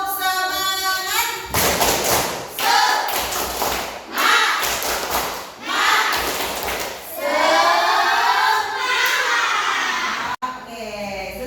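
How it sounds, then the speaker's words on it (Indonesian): A classroom of students doing a rhythmic clapping chant together, loud bursts of group clapping and thumps mixed with children's voices chanting in unison, several phrases with short pauses between them. "Tepuk semangat."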